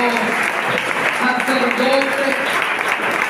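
A church congregation claps steadily and densely through the whole stretch, with faint voices and tones mixed underneath the applause.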